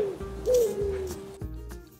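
A bird, probably a pigeon or dove, gives a few soft, low cooing notes in a slow, close rhythm with no talking over them.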